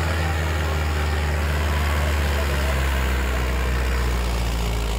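Mahindra 555 Ultra One 2020 tractor pulling a seven-tine plough in a farm field, its diesel engine running with a steady, loud, low throb throughout, faint voices beneath.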